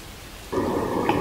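Steady rain sets in partway through as a broad, constant hiss that starts abruptly and continues evenly with no voices.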